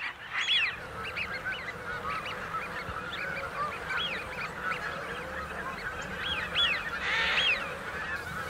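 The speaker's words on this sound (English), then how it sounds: "in the distance, Canada geese" Canada geese honk repeatedly at a distance at Pulborough Brooks nature reserve, a loose chorus of calls rising over steady background noise.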